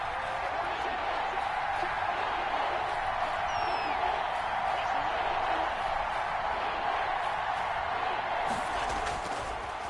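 A large stadium crowd in a football video game roars steadily for the defense, a broad, sustained wash of cheering with occasional whistles.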